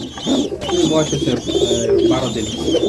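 Bombay pigeons coo steadily and close by, their soft throaty calls repeating in overlapping rounds over a faint hum.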